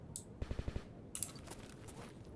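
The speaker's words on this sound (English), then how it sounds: "That's gunshots. I think suppressed" Distant suppressed gunfire in the Escape From Pripyat shooter game, likely an AS Val rifle: a quick burst of five muffled thumps, followed by a couple of fainter shots against quiet ambient background.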